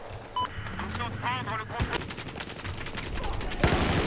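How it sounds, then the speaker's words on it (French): Machine-gun fire in Battlefield 4 comes in rapid repeated bursts of shots. Voices are heard near the start, and the shooting grows denser toward the end. "ça me tire dessus"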